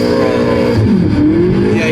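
A McLaren 720S roars at high revs during a burnout, its engine note loud, close and sustained, rising and wavering as the tires spin.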